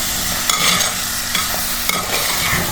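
Masala spices and turmeric powder frying in a pan with jackfruit core and seeds, stirred with scraping strokes over a steady low sizzle, a few sharp spoon clicks, close and moderately loud, no talking.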